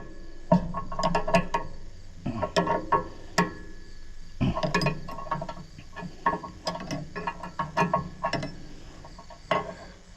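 A ratchet wrench tightens a part while a Great Plains 1006NT no-till drill is reassembled, giving bursts of close, sharp mechanical clicks and clanks in irregular clusters, with short pauses between them.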